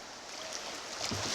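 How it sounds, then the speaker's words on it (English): Rushing water from creek rapids on Antietam Creek heard from a canoe or kayak on a hot day, a steady broadband wash with some splashing toward the end, close and continuous with no talk. "And heading down the final rapids."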